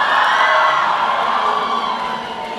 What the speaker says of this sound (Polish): wielkie brawa dla Miru z Blooming Idols.